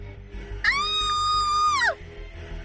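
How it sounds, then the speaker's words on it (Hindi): A girl screams in fear, a single sustained high-pitched shriek lasting over a second, loud and close, rising sharply and falling off at the end over a low background hum. "वो डर कर चीखी।"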